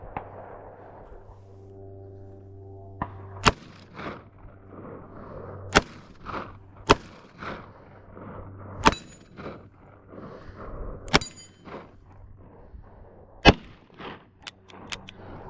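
Revolver shots at an outdoor range, a series of sharp cracks with metallic ringing spread irregularly across the stretch, loud and close over a low background hum, with softer knocks and handling clatter between shots.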